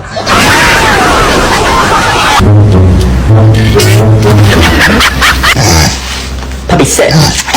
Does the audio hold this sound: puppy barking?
yes